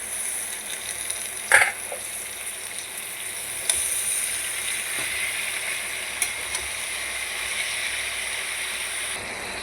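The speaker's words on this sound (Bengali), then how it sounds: "সবজিগুলো অনেকটাই নরম হয়ে গেছে, এবার পালং শাকটা মিশিয়ে দিচ্ছি" Spinach is stirred into softened vegetables frying in a pan with salt and turmeric for a Bengali spinach chorchori. A steady low sizzle runs throughout, broken by a few sharp scraping stirs, with no talking.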